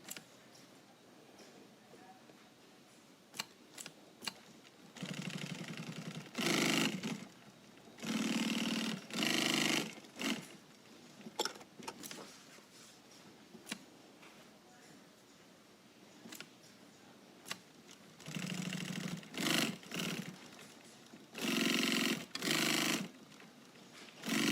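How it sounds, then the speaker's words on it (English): A sewing machine stitching fabric in several loud, steady runs of a few seconds each, separated by quiet pauses with small clicks and handling sounds of the fabric. "And here you're going to sew up the bottom."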